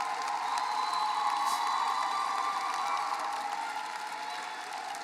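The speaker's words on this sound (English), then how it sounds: "Give them a round of applause." A large crowd at a high school graduation gives the staff a sustained round of applause mixed with cheers and whoops, a dense, even roar that eases slightly toward the end.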